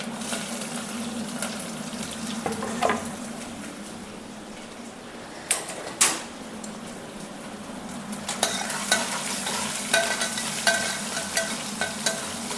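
Onions and slit green chillies frying in a pan make a soft background sizzle with a low hum, then louder stirring knocks and a rising crackle later on, close and without voices.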